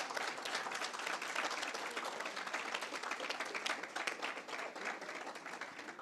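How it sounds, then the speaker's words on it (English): Audience at a debating competition final breaks into sustained, dense applause, many hands clapping steadily with no pause throughout. "Give the teams a round of applause."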